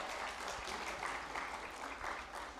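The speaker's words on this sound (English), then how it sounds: "please continue with the applause" Audience applause at a climate-finance leadership panel session, a steady wash of clapping heard fairly faint and distant throughout, with no talk over it.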